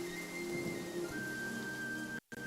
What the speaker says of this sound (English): taking shelter and listening to the rain cleanse the air